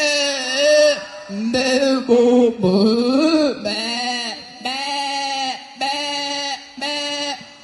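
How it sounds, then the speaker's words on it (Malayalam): Goats in a large shared pen bleat loudly and close by, giving a steady run of wavering cries one after another with almost no pause between them. "ആ കൂട്ടിൽ പല ആടുകൾ എങ്ങനെ ഉണ്ടാവും എന്ന് നമുക്ക് നോക്കാം"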